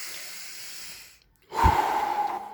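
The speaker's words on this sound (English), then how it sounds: "Just keep on breathing deeply." Deep meditation breathing, close and loud: a long slow exhale trailing off into brief silence, followed by a strong, hissing inhale through the nose.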